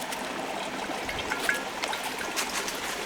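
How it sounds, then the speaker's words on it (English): A portable water filter pump spits a steady trickle of water out of a bucket intake, a continuous close splashing stream with no talking over it. "Now it's already spitting out water because I've already used this"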